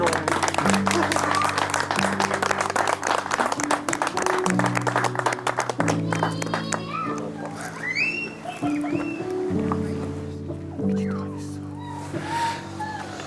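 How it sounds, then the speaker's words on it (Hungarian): Wedding guests in a church applaud the bride and groom after the bride pins a myrtle sprig on the groom; scattered clapping rises and then thins out, with voices talking over it. "Halljuk azt a tapsot."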